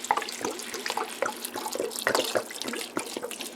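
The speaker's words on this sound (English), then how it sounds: "Then I'm going to cover it with water." Tap water pours steadily into a pot to cover dry lentils, a continuous close splashing stream with small gurgles and clinks, with no voices over it.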